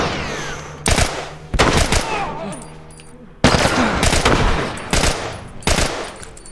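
Enemy gunfire in The Last of Us, loud sharp bursts of shots arriving in about six separate volleys with reverberant tails between them, while someone talks over parts of it.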